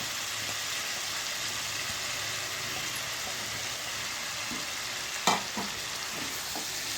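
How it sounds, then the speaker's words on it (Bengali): Potatoes and cauliflower fry in a pan with tomato for a rohu fish curry, giving a steady, loud, hissing sizzle throughout, with one sharp clank of a utensil near the end and no talking. "আলু কফিটাকে দিয়ে একটু নেড়ে নিতে হবে"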